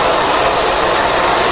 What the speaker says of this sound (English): that's really not the loudest vacuum I've ever heard